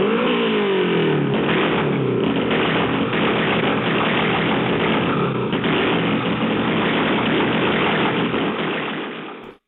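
A race Honda's engine revs hard and continuously under launch control, a loud, sustained near roar with rising tones at the start, holding steady throughout before cutting off abruptly at the end.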